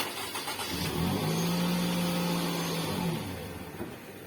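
A Toyota Camry with an aftermarket push-start button and smart key cranks and fires up, the engine catching after a short whir and settling into a steady, loud idle before easing slightly.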